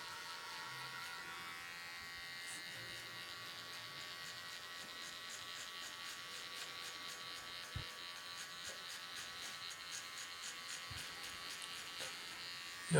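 Steady electric hair trimmer buzz while cutting a mid skin fade, close and continuous, with a few faint clicks and handling knocks and no talk.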